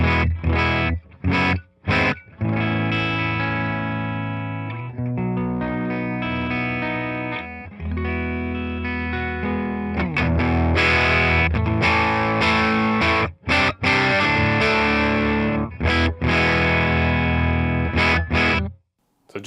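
Electric guitar, a Telecaster with a bridge humbucker, runs through a modded Bassman amp miked with an SM57, giving a clean tone with slight grit. Brief stabs come first, then sustained ringing chords, loud and up close with no voices.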